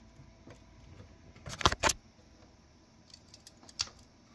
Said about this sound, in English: when you plug it in, you want to make sure you hear the click